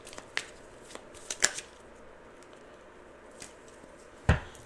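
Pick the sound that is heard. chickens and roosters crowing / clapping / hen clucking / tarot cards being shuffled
tarot cards being shuffled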